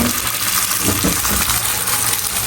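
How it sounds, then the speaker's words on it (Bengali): A paratha frying in a pan on a home stove gives a constant, dense sizzle, close and fairly loud, with a few soft clinks or taps mixed in. "আম্মু আবার এদিকে আমাকে পরোটা ভেজে দিচ্ছে"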